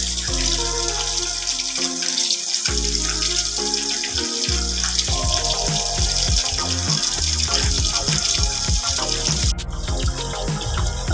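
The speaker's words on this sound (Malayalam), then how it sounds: "വെള്ളം ഫില്ല് ചെയ്തുകൊണ്ടിരിക്കുകയാണ്." Water pours steadily into a homemade aquarium built from a fridge box, a continuous close gushing and splashing that runs throughout with no talk.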